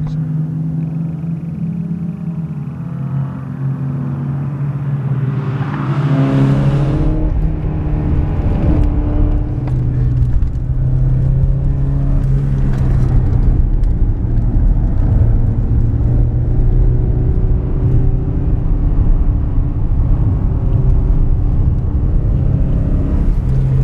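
A powerful V8 engine, cut down from a 908 race car's, rumbles low on a race circuit at Lurcy-Lévis, then revs up and holds a loud droning growl, rising and falling with repeated throttle pushes.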